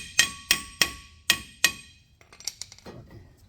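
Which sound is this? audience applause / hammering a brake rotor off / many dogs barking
hammering a brake rotor off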